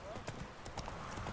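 Hooves of Roach, a horse in The Witcher 3, clip-clop in a steady, fairly quick rhythm under continuous talking, the footfalls soft and partly buried by the voice.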